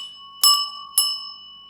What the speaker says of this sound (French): j'ai amené une petite cloche